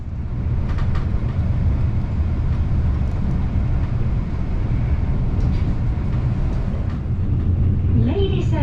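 Renfe Talgo train coaches run at high speed, giving a loud, steady low rumble and roar throughout with faint rattles near and a brief tonal squeal near the end.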